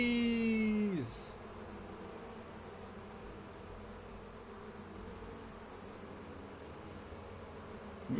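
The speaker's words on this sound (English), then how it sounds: "Time to be bees again." Bees buzz in the video game Dragon Age: Origins - Awakening as a steady, close insect drone that runs on evenly after a brief falling tone at the start, with no voices over it.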